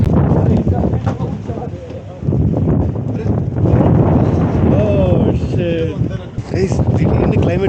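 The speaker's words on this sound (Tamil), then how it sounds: "காற்று அடிக்குது, லைட்டாக மழை பெய்யுற மாதிரி இருக்குது." Wind buffets the microphone in heavy, rumbling gusts while people talk over it outdoors on the Zojila Pass road to Ladakh, with light rain starting.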